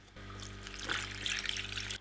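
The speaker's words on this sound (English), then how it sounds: "We're going to pour hot water directly onto this." Hot water poured in a steady trickling stream onto chocolate pieces, a close, continuous splashing pour lasting a couple of seconds with no talking.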